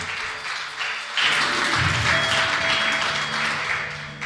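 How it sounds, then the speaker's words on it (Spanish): Congregation applauding for Christ during a church service, a steady wash of clapping that swells after the first second and holds fairly loud to the end, with a little talk underneath. "Yo no sé si tú le puedas dar un aplauso fuerte a Cristo por ese amor"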